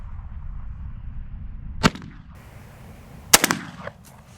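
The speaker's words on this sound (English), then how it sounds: "we're going to shoulder the gun and shoot" Two sharp, loud blasts from a Weatherby Element shotgun fired from the shoulder, about a second and a half apart, each cracking out and fading quickly against a faint outdoor background.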